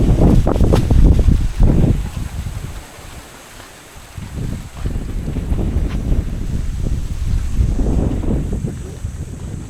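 Strong gusts of hot wind buffet the microphone in loud, rumbling bursts that rise and fall, easing briefly before returning.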